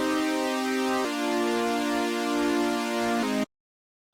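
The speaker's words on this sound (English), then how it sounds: "Here I have super saw chords like this." Sustained super saw chords from a synth in FL Studio Mobile, a thick stack of bright detuned tones holding two chord changes, loud and alone, cutting off abruptly into silence near the end.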